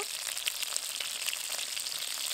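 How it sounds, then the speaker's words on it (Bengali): Cleaned shrimp sizzle steadily in hot oil in a pan, a close, even frying hiss with faint crackles throughout and no speech. "এবার আমি এই তেলের মধ্যে দিয়ে দেবো বেছে রাখা চিংড়িগুলো।"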